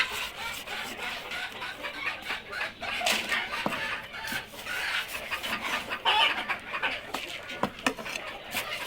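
A flock of laying hens clucks and chatters continuously nearby while feeding, with occasional sharp pecking taps and scattered louder calls.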